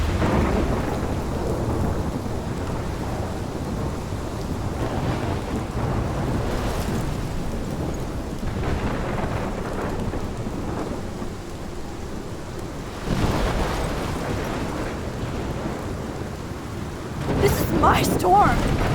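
A thunderstorm from the Life is Strange video game, with heavy rain pouring steadily throughout and deep rolling thunder swelling in several waves, loud and close.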